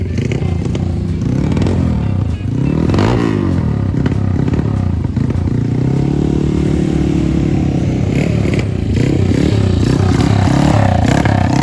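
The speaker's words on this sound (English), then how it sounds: "so let's fire up your bike" Classic motorcycle engines on a track day at Streets of Willow, loud and close, idling with a rough clattering rhythm and revving up and down repeatedly throughout.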